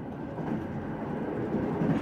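A train carriage rolls along the tracks with a steady low rumble and a dense rattling texture, heard from inside, continuous and fairly loud with no voices.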